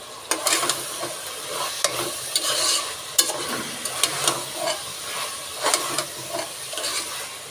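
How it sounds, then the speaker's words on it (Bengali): Stirring fried rice mixed with five pre-fried eggs in a pan, a steady sizzling hiss broken by repeated scraping and tossing strokes at close range, with no voices. "তারপরে ডিমটা দিয়ে দেবো যে ডিমটা ভেজে নেওয়া হয়েছে সে ডিমটা দিয়ে মিক্স করে নিব"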